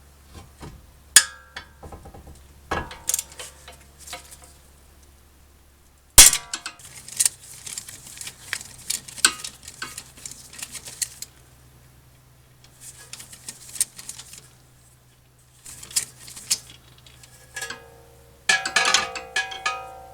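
A ratchet with extensions works a carrier bearing bolt on a 2014 Honda Odyssey during a passenger-side CV axle replacement, giving sporadic close clicks, metallic clangs and tool taps separated by quiet gaps.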